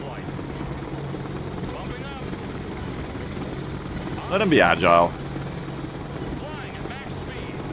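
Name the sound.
helicopter flying, from video game Broken Arrow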